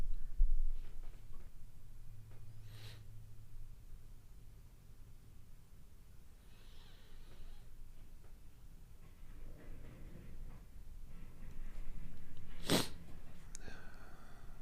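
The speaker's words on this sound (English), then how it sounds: "Sorry for the sniffles." Quiet sniffs and nasal breaths come and go in a hushed room, with one sharp, louder snort or sneeze-like burst near the end.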